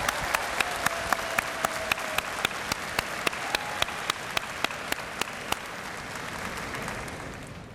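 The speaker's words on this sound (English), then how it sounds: "Let's have a round of applause." Audience applause at a University of Waterloo convocation ceremony in a large hall, a sustained wash of many hands clapping with a few sharp, regular nearby claps standing out before fading slightly.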